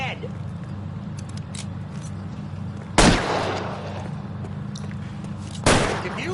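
Gunfire in the crime game L.A. Noire: two sharp, loud shots about three seconds apart, each ringing out over a steady ambient rumble.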